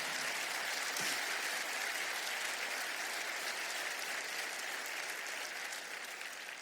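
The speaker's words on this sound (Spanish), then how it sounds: "Denle el mejor aplauso en esta mañana al Señor." Sustained applause from a church congregation, steady and dense throughout without a pause.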